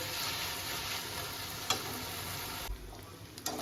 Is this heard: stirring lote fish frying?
yes